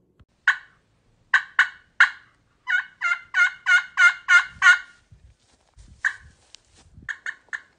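A wild turkey gobbles repeatedly in a rural outdoor setting, with several short gobbles followed by a longer rapid rattling burst, then more gobbles, fairly close and clear with no talking.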